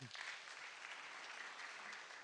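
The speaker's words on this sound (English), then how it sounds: "Let's give them a clap." Applause from a crowd, steady clapping that carries on evenly throughout, fairly distant and soft.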